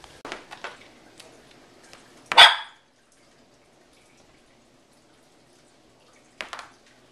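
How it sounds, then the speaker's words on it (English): A dog gives one sharp bark at mid-distance in a quiet room, preceded by a few faint thumps and followed near the end by another short bark-like burst. "you hear another dog is what you hear"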